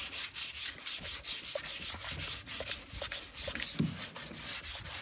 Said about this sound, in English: you want to sand the area, but then you also want to sand past the area